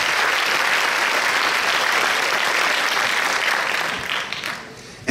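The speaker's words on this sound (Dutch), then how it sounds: "Graag uw applaus voor de dame met de weelderige haardos" Dense, sustained audience applause for a jury member, a woman introduced at a Miss Fashion 2020 pageant, loud and continuous before fading in the last second.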